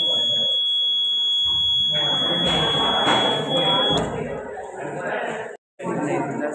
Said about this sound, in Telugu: సౌండ్ వస్తుంది బజార్ వల్ల సైడ్కి వెళ్తారు